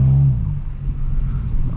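A Subaru Impreza with a sport exhaust revs briefly then settles into a low rumbling idle, close by, with no talking.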